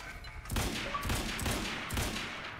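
Sniper rifle fire in the video game Quantum Break: several heavy, booming shots spaced about half a second apart over a low rumbling background, moderately loud and without talk.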